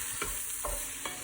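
Rice is stirred in hot oil in a pot for jambalaya, three soft scraping strokes of the spoon over a low continuous sizzle, close by with no talk.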